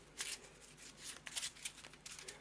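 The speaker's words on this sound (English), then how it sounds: "we'll do a quick shuffle" A deck of Eldritch Horror game cards is shuffled by hand on a tabletop, giving quick riffling bursts of papery flutter in an irregular rhythm, close and soft.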